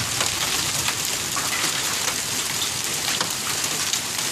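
Hail pelting down outside in a dense, steady hiss of countless small impacts, loud and unbroken throughout, with no voices.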